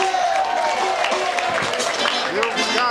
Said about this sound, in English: how about a real big round of applause for Chad Przybylski